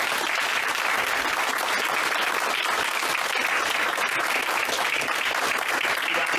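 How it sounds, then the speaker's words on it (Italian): An audience gives the guests a steady, dense round of applause at an Italian talk event, loud and continuous throughout with no break. "un applauso enorme per gli ospiti"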